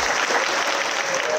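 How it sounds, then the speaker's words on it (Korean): Loud, dense applause from a large audience at the opening of the 2024 Kakao Partners Connect business event, a close, continuous burst of clapping with no breaks. "여러분들 큰 박수 부탁드립니다"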